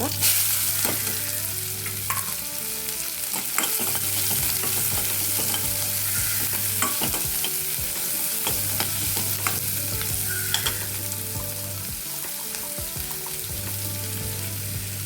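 Two small finely chopped onions frying with cumin in a pan for moringa leaf bhaji, a loud constant sizzle broken by scattered spatula clicks and stirring scrapes, over an intermittent low electrical hum and with no talking.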